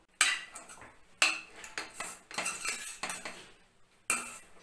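Spoon scraping and clinking against a pan while mixing rice for a kids' lunchbox dish, a series of close, uneven metallic strokes with short pauses between.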